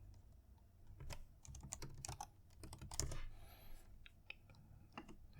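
A password being typed on a computer keyboard gives quiet, close, irregular key clicks and taps in short runs with brief pauses, alone in a quiet room.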